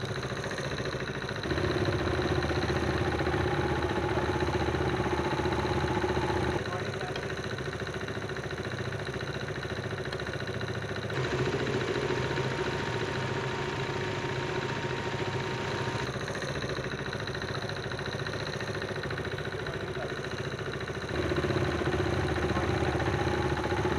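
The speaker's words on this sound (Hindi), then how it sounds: "आपका इंजन आपको परफेक्टली स्मूथ कंडीशन में सुनाई देगा।" A car engine idles smoothly at a steady, even hum, with slight shifts in tone every few seconds but no pauses or voices.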